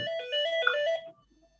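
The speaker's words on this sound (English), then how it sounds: "Leila, your mobile is ringing." A mobile phone ringtone plays a bright melodic tune, loud and close, for about a second before cutting off into near silence.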